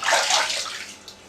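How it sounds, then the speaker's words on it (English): Water sloshes and splashes in a filled bathtub as a person moves in the bath, a short, close burst that fades away quickly. "And here I am, obviously in the bath."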